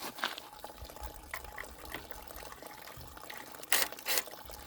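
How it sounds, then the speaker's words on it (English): Gasoline draining from a small engine carburetor, a faint continuous trickle and splash of liquid with a couple of brief louder spatters near the end. "Get all the gas out of the carburetor."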